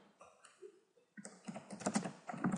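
Typing on a computer keyboard while writing an HTML paragraph: quiet, scattered key clicks at first, then a faster, louder run of keystrokes, with no talk.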